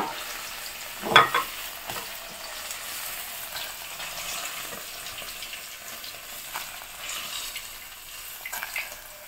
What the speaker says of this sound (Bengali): দেখো পনিরের টুকরোগুলো ভাজা হয়ে গেছে